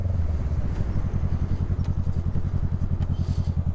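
A motorcycle rides along a road with a steady low engine drone and a fast, regular pulsing beat, loud and close, with faint wind and road noise above it.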